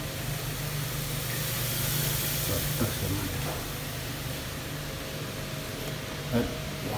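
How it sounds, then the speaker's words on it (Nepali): Spices frying in a pan with onions already browned, a steady, close sizzling hiss that holds level throughout with a couple of brief clatters. "अब मसला हाल्नु, मसला हालेर फेरि एकछिन फ्राई गर्ने मसलाले"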